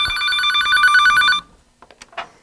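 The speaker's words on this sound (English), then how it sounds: "We have a phone call. Let's get this phone call right now." Telephone bell ringing for an incoming call during a Body Shop TV broadcast, a loud sustained burst of electronic ring tone that cuts off abruptly, followed by faint clicks and a brief voice.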